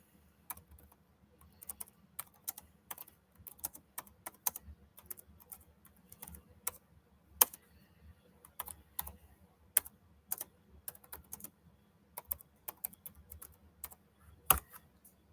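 Fast, irregular typing on a computer keyboard, with clicky keystrokes arriving in bursts and short pauses, close and fairly quiet over a low background hum.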